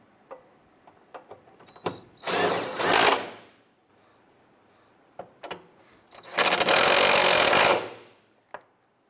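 Power tool tightening fuel tank strap bolts on a 2007-2012 Nissan Versa, two loud whirring bursts of a few seconds each, separated by clicks and handling noises.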